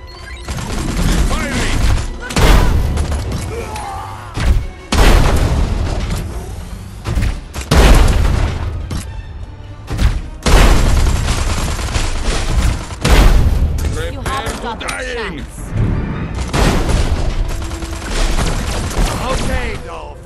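Loud bursts of gunfire and booming blasts from mounted guns in Destroy All Humans! 2, some close and some farther off, come in irregular clusters over about twenty seconds, with a voice talking between them.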